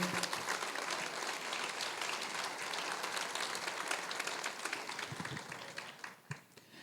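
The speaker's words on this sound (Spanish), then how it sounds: "Dele un aplauso al Señor." A church congregation at a Spanish-language sermon bursts into sustained applause, dense clapping filling the room at steady strength before thinning out toward the end.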